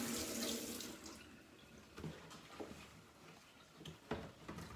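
Running tap water rinsing dishes in a sink, a steady gush with scattered clinks and splashes as items are moved under the stream, heard nearby and fairly quiet, with no talk.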